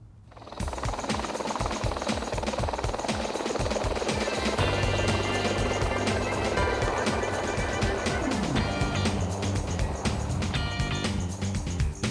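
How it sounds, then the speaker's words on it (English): An Air Omega helicopter roars steadily at close range at a motorbike show, with rotor chop and turbine whine filling the air throughout, plus some brief faint talk. "taking a flight in one of these, the Air Omega helicopter"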